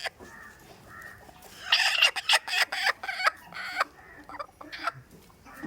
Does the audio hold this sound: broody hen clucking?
yes